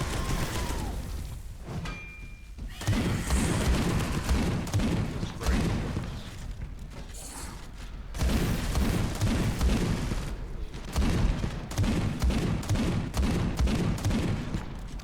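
Repeated pump-action shotgun blasts and gunfire in the Warhammer 40,000 game Space Hulk: Deathwing, loud booming bursts in clusters across the clip amid game ambience, with brief quiet gaps between volleys.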